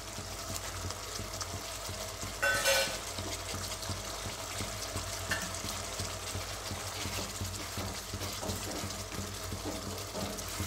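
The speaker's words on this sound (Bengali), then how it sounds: "আমি ঘিতে ভেজে নিয়েছি বাদামগুলো, কাজু বাদাম, সেটা আমি দিয়ে দিচ্ছি।" Ghee-fried cashews go into a quietly bubbling curry masala, with a low simmering sizzle under soft stirring and a brief louder clatter as they drop in.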